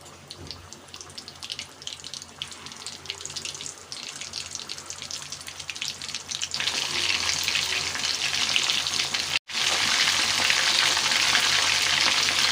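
Mutton kola balls deep frying in hot oil, a steady close sizzle that thickens and grows louder partway through, with a brief cut before the bubbling resumes.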